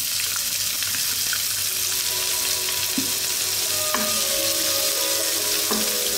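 Garlic and onions sauté in a hot pan for Filipino pancit palabok, a steady close sizzle with occasional scraping stirs and light clinks throughout, no talking.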